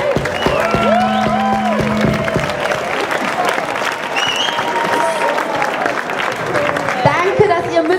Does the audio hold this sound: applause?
yes